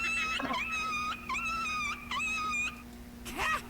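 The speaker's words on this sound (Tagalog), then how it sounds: "may aso si DJ" A dog whining in long, high, wavering cries repeated three times with short breaks, close and fairly loud over a steady low hum.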